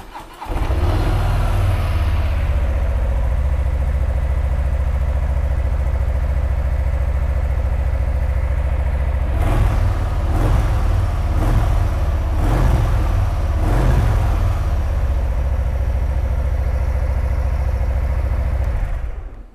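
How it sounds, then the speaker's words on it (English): A Harley-Davidson FXBBS Street Bob 114 custom cruiser motorcycle fires up and settles into a loud, steady, rumbling idle, with several quick throttle blips revving the V-twin midway before it returns to idle. "So let's fire this one up and have a listen."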